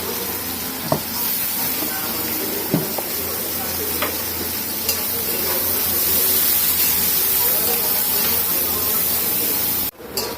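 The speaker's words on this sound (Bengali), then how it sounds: "পেঁয়াজ আর মরিচটাকে আমি একসাথে দিয়ে দিচ্ছি।" Onion and chilli fry together in a pan while a curry is cooking, making a loud, continuous sizzle with a few faint clinks. The sizzle cuts off abruptly near the end.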